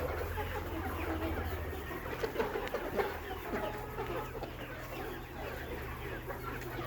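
Layer hens of the Sonali cross breed on a poultry farm in winter, a soft, scattered chorus of clucking over a low steady hum, heard from a moderate distance.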